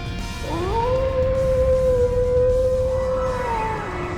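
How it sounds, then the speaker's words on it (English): A single long wolf howl in the video game Trails into Reverie rises, holds a clear sustained pitch for about three seconds, then slides down and fades, ringing loud over a low rumbling background. "Did that howl cancel out the artifact's power?"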